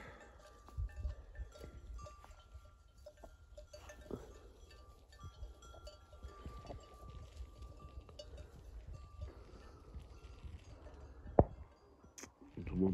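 A flock of sheep grazing on a mountainside, with faint livestock bells clinking irregularly, occasional soft bleats and rustling, quiet and somewhat distant, and what may be a little low talk in the background.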